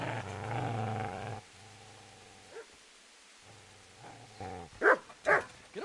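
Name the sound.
dog growling and barking in the video game Kingdom Come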